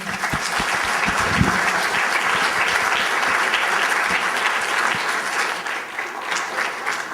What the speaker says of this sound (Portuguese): Peço um grande aplauso para o nosso painel.